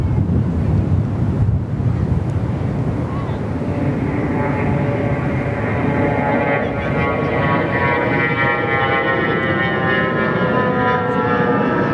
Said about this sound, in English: Alliance Fokker 100 next to roll here